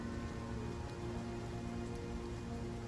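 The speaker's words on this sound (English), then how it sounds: "you are left with just that sound of the rain coming down" Heavy monsoon rain pours down in a dense, steady wash of noise, unbroken and fairly quiet, with no voices.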